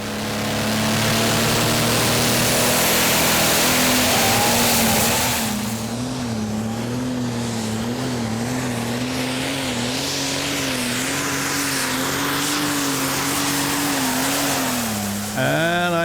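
A pulling tractor at a Danish championship tractor pull in Herning roars loudly and continuously, its engine tone wavering up and down as it strains along the track, with a faint voice over it.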